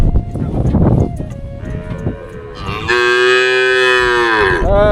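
Brief talk comes first, then a cow on a rural river-island char gives a loud, sustained moo close by for about two seconds near the end, standing clear over quiet outdoor background.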